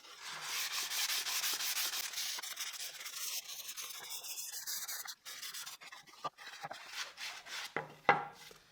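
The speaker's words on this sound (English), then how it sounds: "Using a used 120 grit sandpaper, I am sanding the edges." Steady rasping strokes of used 120-grit sandpaper rub against wood edges, close and continuous, with a few sharper scrapes and knocks toward the end.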